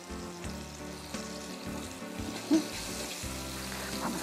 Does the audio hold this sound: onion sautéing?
yes